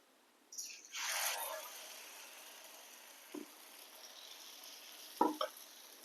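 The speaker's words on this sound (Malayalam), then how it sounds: "ഇനി ഇത് മാവ് നമുക്ക് ഒഴിച്ചു കൊടുക്കാം." Dosa batter hits hot coconut oil in a pan with a sharp burst of sizzling that quickly settles into a faint steady hiss, followed by two brief clinks of a utensil.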